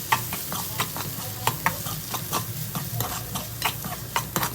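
Ivy gourd palya frying in a pan with a crushed garlic, dry chilli and peanut mix, crisp sizzling under steady rhythmic stirring scrapes and taps, close and alone.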